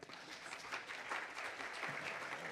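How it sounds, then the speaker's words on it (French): Audience applause for a recent doctor in water sciences at a talk on agroecological practices and infrastructure, a steady, dense patter of clapping hands that keeps going evenly for a few seconds without any voices. "donc on peut l'applaudir pour ça déjà"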